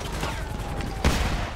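Enemy gunfire in Grand Theft Auto 5, a sharp shot cracking out near the end over a steady bed of game ambience.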